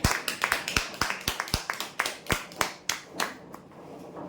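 Clapping for prize winners at a weekly lucky draw, recorded close: a handful of people beat out sharp, separate claps in an uneven rhythm that thins out and stops near the end.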